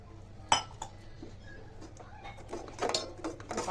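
Boiled and cooled milk is stirred into ghee-roasted ingredients in a pot for kheer, with soft scraping and a few sharp metallic clinks of a spoon against the pot, close and fairly quiet.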